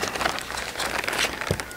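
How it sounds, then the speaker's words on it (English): Close, crisp crinkling of a plastic bag being handled while cleaning a release aid, irregular rustles with a soft thump near the end. "dig out your plastic bag again"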